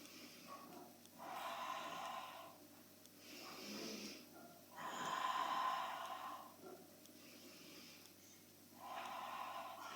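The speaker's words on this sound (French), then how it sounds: "Quand j'expire, de la buée sur un miroir et quand j'inspire, c'est par le nez." A person does Pilates breathing, inhaling through the nose and exhaling through the mouth. Three slow, forceful breaths come close and alone, each a breathy rush separated by quiet pauses.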